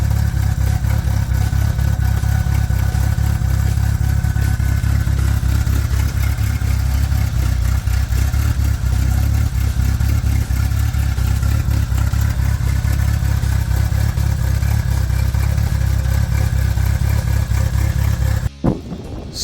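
A 1984 Mercury Capri RS Turbo engine runs close by with a loud, steady rhythmic chug and light clattering for most of the stretch before it drops off suddenly near the end.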